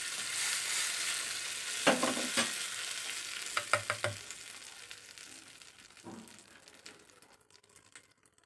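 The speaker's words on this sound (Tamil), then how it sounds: "சட்னி ஆட்டியாச்சு, தாளிச்சிடலாம்." Mustard and spices crackling in hot oil for a Tamil sundakkai (turkey berry) chutney tempering, a steady frying hiss with a few sharp stirring clatters and pops near the start, fading toward the end.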